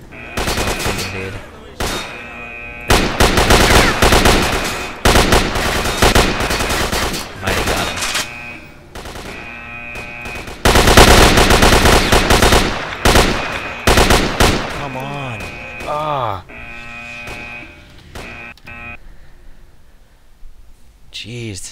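Machine guns blaze in S.T.A.L.K.E.R. Shadow of Chernobyl, loud close automatic bursts in several long rattling volleys separated by short pauses, with a player talking in between.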